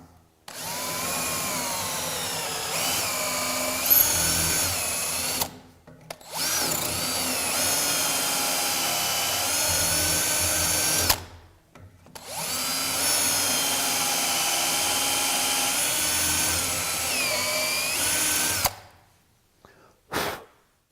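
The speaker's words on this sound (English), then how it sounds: "Now drill these 3 A-position holes and clear the chips by plunging up and down." Electric drill boring holes into wood through a BeadLock drilling guide, three sustained whining bursts with short pauses between as the bit plunges up and down to clear chips.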